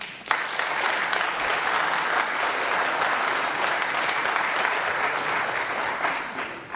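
Audience applause fills a planning commission meeting room, a dense, steady wash of many hands clapping at close range for nearly seven seconds with no talking over it.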